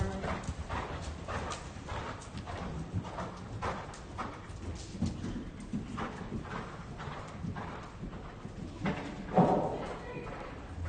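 A horse cantering in a riding arena during a clinic lesson, with steady rhythmic hoofbeats on the arena footing throughout. An instructor talks over the footfalls now and then, and there is a louder thud near the end.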